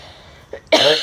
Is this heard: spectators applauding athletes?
no